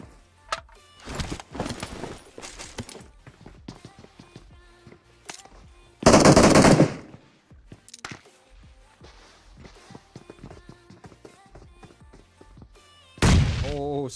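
Rapid gunfire crackles throughout a competitive video game match, with a loud grenade explosion bursting in the middle and another blast near the end, amid scattered footsteps and thuds.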